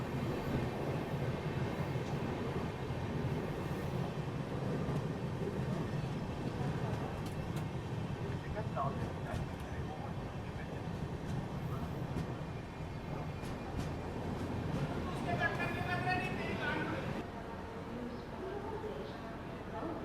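A train at Ghoradongri railway station, a ghat-section stop on the Mysuru–Darbhanga Bagmati Superfast route, gives a loud, continuous rumble of rolling wagons that fills the scene, with brief squeal-like tones near the end.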